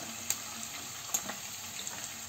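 Mixed vegetables frying in a pan with garlic and ginger for desi fried rice, a steady close sizzle broken by a few sharp ticks and pops, with no talking.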